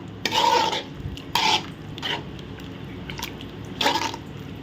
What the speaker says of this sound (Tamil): இதுக்கு வந்து தேவையான தேங்காய் பால் ஊற்ற போகிறோம்